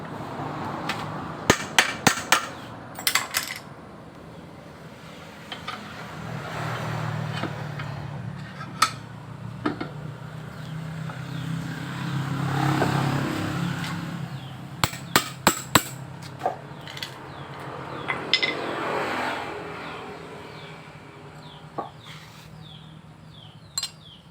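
A hammer drives rivets into a Jupiter Z motorcycle clutch during a clutch rubber replacement, with a wheel axle holding the rivets from below. Sharp metallic strikes come in quick, irregular clusters over a low background hum.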